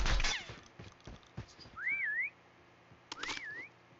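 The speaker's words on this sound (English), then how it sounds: "I want to hear the whistle." Whistle sound in the Call of Duty Mobile video game: two short rising-and-falling whistled phrases a second apart, clear and fairly close over quiet in-game clicks and thuds.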